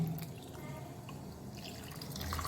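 Water is poured into a mixer jar of ground grated coconut to make coconut milk: a quiet, steady trickle of liquid with small splashes throughout.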